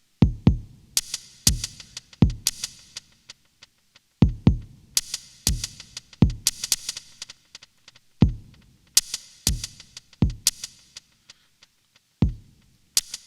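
A drum sequence played on a Blackbox 2.0 sampler in normal step mode, steady punchy kick hits with crisp snare or hat accents repeating in a looping rhythm, no voices.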